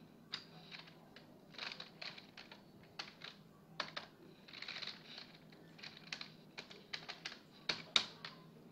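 Fingers type on a computer keyboard in quick irregular runs of light, crisp clicks, quiet and close, with brief pauses between bursts.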